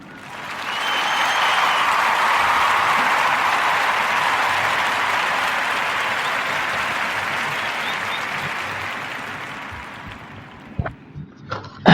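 A crowd applauds steadily for about ten seconds, a broad sustained wash of clapping that fades out, followed by a few sharp knocks near the end.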